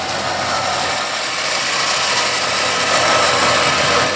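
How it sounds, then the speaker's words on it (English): A Warn winch spools steel cable back onto its drum under tension during a re-spool, giving a steady, close mechanical whir and ratcheting drone that holds even and loud throughout. "keep tension on the cable and spool it in some more"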